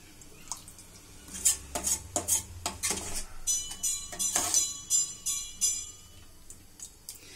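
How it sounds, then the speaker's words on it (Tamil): A spoon stirring chickpea kurma in a cooking pot, a run of repeated metallic scrapes and clinks against the pot's sides, close and fairly loud, with no talking. "கொஞ்சம் நல்லா மிக்ஸ் பண்ணி விட்டுக்கலாம்."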